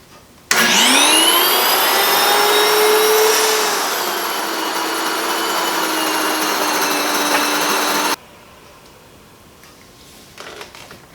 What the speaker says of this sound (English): So we're going to grind our grains in the Wonder Mill. Turn it on first.